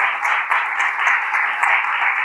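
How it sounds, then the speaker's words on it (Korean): A conference audience applauds at a founding assembly, steady dense clapping close and fairly loud throughout, with no talk over it. "다시 한번 큰 박수 부탁드릴게요"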